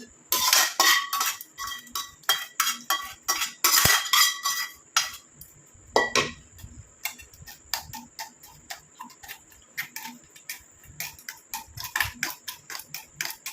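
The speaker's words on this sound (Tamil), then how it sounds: "நல்லா அந்த மாதிரி ப்ரெஸ் பண்ணி விட்டுக்கோங்க வடிகட்டி இந்த மாதிரி எடுத்துடலாம்" Henna leaf paste pressed and strained to pull out its juice gives a run of sharp clinks and clicks of utensil on a metal vessel, dense at first then sparser and irregular, close up with no talking.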